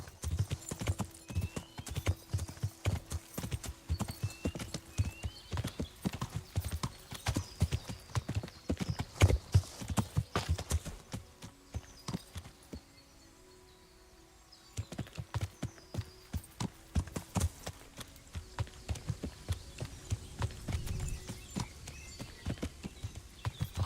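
Horse hooves clip-clopping in the Kingdom Come: Deliverance video game, a brisk run of close hoofbeats with occasional snorts and whinnies, pausing for a few seconds of near quiet before the riding resumes.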